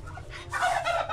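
A turkey on a farm gobbles once, a short rattling burst heard close over low background rumble.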